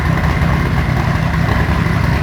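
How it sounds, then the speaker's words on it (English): A 1988 RUF 911 Turbo making 650 horsepower runs with a steady, loud, close exhaust rumble and a dense, even engine drone, the turbo whistle blended into the roar. "You can even hear the sides of the turbo whistling away."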